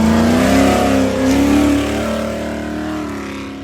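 Off-road race vehicles at the start of the Vegas to Reno race roar as they accelerate away together, a loud, sustained engine drone with rising revs that fades slightly as they pull off.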